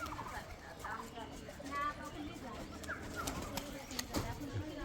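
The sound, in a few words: male Lal Sundari pigeon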